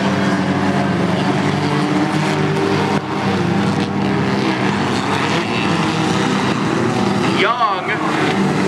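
Hornet class race cars roaring around a dirt speedway, a continuous dense engine drone from several cars heard under an announcer calling the race.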